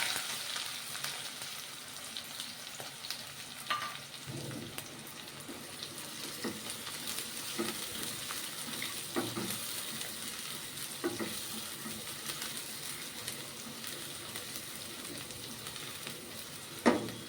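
Chopped green chili and onion fry in oil in a pan for soya pulao, giving a continuous close sizzle with intermittent scraping stirs and a sharp clink near the end.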